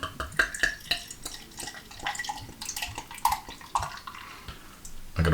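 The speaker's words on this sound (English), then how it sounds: "It's in a 330ml bottle. And let's pour." Beer from a 330ml bottle is poured into a glass, giving a close gurgling, splashing flow with bright fizzy crackle and a few clinks.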